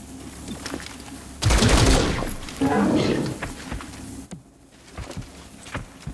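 A squad member opens fire in the video game XCOM Chimera Squad, sending out a loud burst of rapid gunfire followed by a second volley, then scattered impacts and thuds as the fighting dies down.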